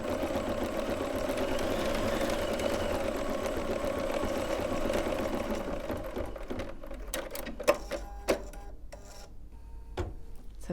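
An embroidery sewing machine runs a steady, loud mechanical stitching whir for several seconds, then stops, leaving a few scattered clicks and taps.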